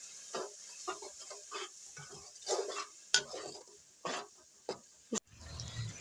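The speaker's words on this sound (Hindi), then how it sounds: "अब हम इसको अच्छे से भूनेंगे" Chicken korma masala with green chillies and salt being sautéed in a pan, heard as intermittent sizzles and spoon scrapes and stirring clatters, close and fairly soft, with no talk.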